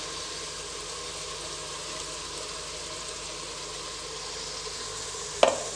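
Vegetables and ground masala frying in a pan for vegetable pulao, giving a steady close sizzle that runs unbroken throughout, with a brief clatter near the end and no talking.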